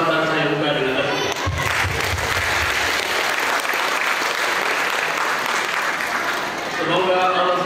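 An audience applauds to open a regional women's organization meeting in South Sulawesi, a dense, steady wash of clapping lasting several seconds that starts just after a voice finishes speaking.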